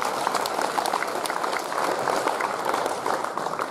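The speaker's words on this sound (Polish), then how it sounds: "Prosimy o brawa dla zawodników województwa podlaskiego." Audience at a youth Greco-Roman wrestling tournament gives dense, continuous applause, many hands clapping at once from a crowd in a hall, steady and fairly loud for the whole stretch.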